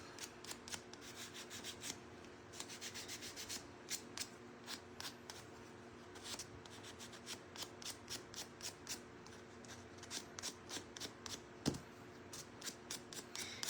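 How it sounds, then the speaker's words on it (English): Sandpaper works the edges of a painted shelf sitter in quick, quiet, rhythmic rubbing strokes that repeat steadily throughout, with no talking. "sand it a little further in if I feel like getting a little more rustic"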